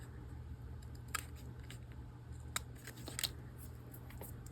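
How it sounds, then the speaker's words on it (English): Scissors snip paper for an altered book journal, producing several crisp, quiet cuts at an uneven pace against a faint steady hum, close up and with no speech. "I'm going to snip that."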